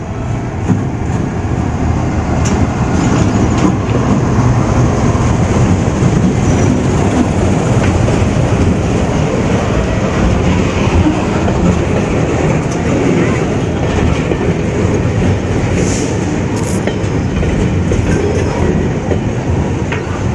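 A Pakistan Railways express train with new Chinese-imported coaches rolls past close by, its rumble and clickety-clack of wheels continuing steadily and loudly for the whole stretch.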